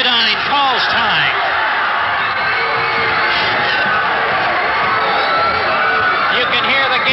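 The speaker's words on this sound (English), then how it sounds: "You can hear the Gaylord St Mary's crowd on the far end of the floor." Crowd at a 1970s high school boys basketball game in a gym cheers and yells loudly, with shouting children and whoops over a dense roar, heard from the far end of the floor.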